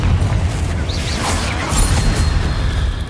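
Confringo blasting spell exploding in Hogwarts Legacy inside a tomb, a loud sustained rumbling burst with a whooshing tail and faint magical chimes, steady and close for a few seconds with no talk.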